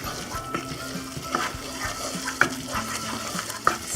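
Thickening chicken pot pie filling gets stirred in a pot, a low bubbling sizzle under soft repeated scraping of a utensil, with a few small clinks against the pot's side.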